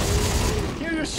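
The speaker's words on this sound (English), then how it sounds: "You're just shooting at me!" A brief burst of dense, loud gunfire in Dead Space 3, with mechanical clatter filling the whole moment while someone talks over it.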